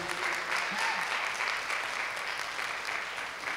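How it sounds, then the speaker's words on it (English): Audience applause at a library and affordable housing forum in Sunset Park, a dense, steady wash of clapping from a crowd that holds evenly throughout and fades slightly near the end. "deserves a big round of applause"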